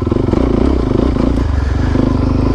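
A supermoto motorcycle's engine chugs loud and close in a fast, throbbing pulse while the bike rattles and clatters over deep dirt ruts.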